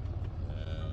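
Highland cattle on a farm lowing in a low, steady drone, close and continuous throughout with no talk.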